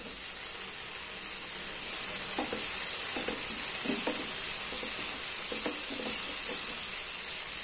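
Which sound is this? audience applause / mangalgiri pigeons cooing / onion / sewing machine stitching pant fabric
onion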